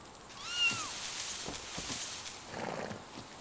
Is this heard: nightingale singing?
no